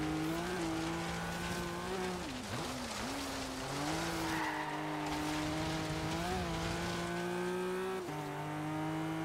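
A BMW M5 rallycross build drifting in Forza Horizon 3, with long wavering tire squeal over a steady engine drone as the car slides sideways, loud and continuous without talk.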